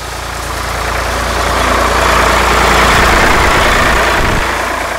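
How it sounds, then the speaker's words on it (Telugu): A sugarcane tractor passes nearby on a road, its heavy engine drone swelling to a loud peak midway and easing off again, a continuous low rumble with no speech. "అదొక చెరుకు ట్రాక్టర్ సార్, క్రాస్ అయింది."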